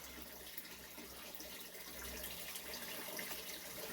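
Fish pond water from an indoor grow room being poured onto pepper seedlings: a faint, steady trickle and splash running without a break.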